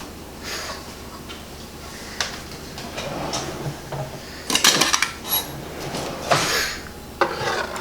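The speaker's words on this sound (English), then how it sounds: "Get out your bowl." Dishes and bowls clinking and knocking as a bowl is taken out in a home kitchen, several scattered clatters and a louder cluster of rattles midway, close and intermittent with no speech.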